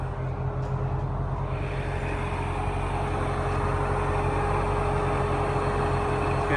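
A supercharged C6 Corvette engine runs at a steady idle nearby, giving a constant low hum with a faint whine on top and no revving.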